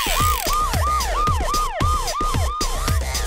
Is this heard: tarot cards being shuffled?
no